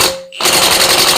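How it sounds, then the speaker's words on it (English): A 1/2 inch impact wrench on its lowest setting working a bolt on a 10-bolt rear axle teardown, a loud rapid hammering rattle that starts after a short gap and runs continuously to the end. "Got a little bigger 1/2 inch impact on the lowest setting now."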